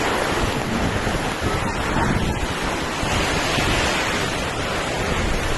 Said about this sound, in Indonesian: Angin ya Allah.